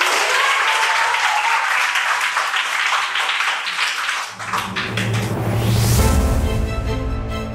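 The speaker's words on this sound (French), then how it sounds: "On s'applaudit" Schoolchildren clapping together in a classroom, a dense steady burst of applause that fades after four seconds into a loud low hum and scattered voices.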